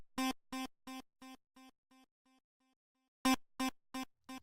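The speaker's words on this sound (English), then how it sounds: "delay is kind of bouncing just slightly back and forth between your ears." Synth lead notes repeat in a steady pulse and fade away like echoes, then a fresh loud burst of notes starts the pattern again, delay taps bouncing lightly between left and right.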